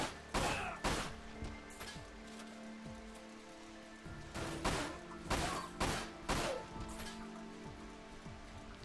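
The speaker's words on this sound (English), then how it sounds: "Someone is still shooting at me." Gunfire in the game Dirge of Cerberus crackles in bursts of sharp loud shots, clustered volleys spaced a second or two apart over a quieter rattling background.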